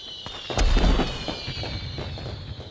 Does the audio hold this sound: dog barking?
no